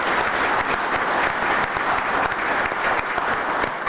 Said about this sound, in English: I wouldn't mind a round of applause for Sue